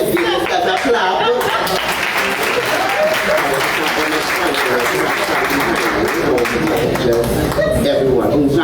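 Audience applause at the Caribbean Baking Award ceremony, a dense, loud crowd clapping sustained throughout with a voice speaking over it.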